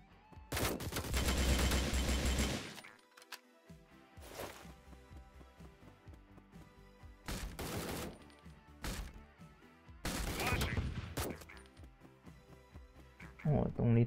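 Gunfire in the tactical shooter game Door Kickers: Action Squad, with loud bursts of rapid shots that come in several separate volleys and are broken by short pauses and softer game noise.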